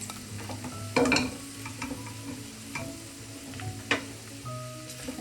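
Chopped onion and curry leaves fry in a pan with a quiet, steady sizzle, and a spoon scrapes and taps against the pan now and then.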